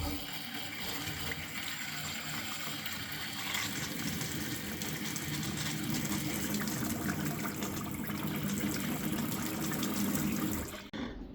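Water runs steadily through a domestic boiler's hot water system just after it is switched on. The flow is a quiet, even rush that continues unbroken and then cuts off abruptly at the end.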